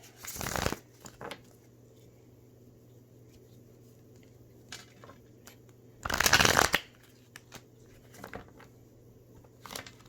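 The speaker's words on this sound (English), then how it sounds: "Again, another ugly shuffle" A tarot card deck is shuffled in two quick riffling bursts, near and crisp, separated by quiet stretches with faint taps and card handling over a low steady hum.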